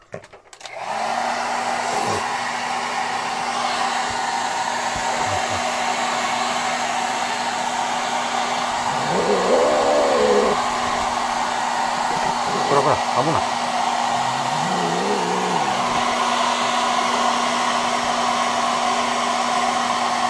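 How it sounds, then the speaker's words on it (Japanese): A hair dryer runs loud and steady at close range for about twenty seconds, its constant whirring hum broken only by brief pitch wobbles as the airflow shifts, drying a pet after its first bath. "待ちや、ドライヤーかけた。"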